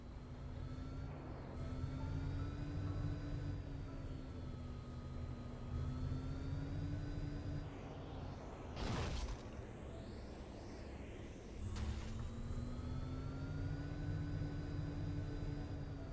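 Dropship engine thrusters in a Halo 3 Forge mod drone with a steady, loud whine and low rumble, the pitch gently rising and falling, with a brief burst of noise midway and no talking.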